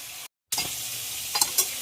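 Boiled taro greens and chickpeas hit a pan of frying spices, a burst of sizzling after a short pause, then steady frying hiss with a couple of quick stirring scrapes.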